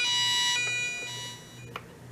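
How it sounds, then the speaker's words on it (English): A GE 7-4845A clock radio's alarm rings loud and steady with a bright, piercing buzzy tone for about half a second, then cuts off, leaving a fading hum and a faint click. "go ahead and turn the awful alarm off"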